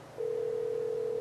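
A telephone tone from a call being placed starts abruptly after a brief quiet moment and then holds as one steady, clear pitch, close and continuous.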